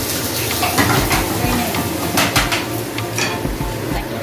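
Garlic sizzles in a cooking pan, a steady close frying hiss broken by stirring scrapes and light clinks of utensil against metal, with no talking over it.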